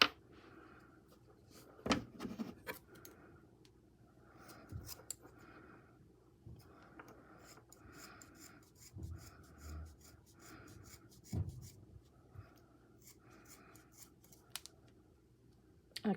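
Scissors snip and rub while cutting tulle for handmade craft dolls, with scattered quiet cuts and handling noises over about sixteen seconds, close and soft, with no speech.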